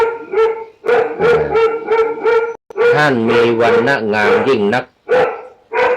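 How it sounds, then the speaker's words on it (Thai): A dog barks loudly and repeatedly near a Buddhist monk as he chants during a Dhamma radio program, the sharp yelps overlapping and alternating with his sustained, tonal voice. "โอ้นี่ต้องขออภัยเสียงสุนัข"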